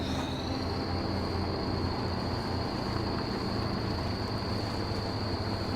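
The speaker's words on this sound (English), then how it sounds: "Yeah, this turbo's just whistling away." A truck's turbo whistles in the Mudrunner off-road game, holding one steady high-pitched tone over a continuous low engine rumble, with no talking.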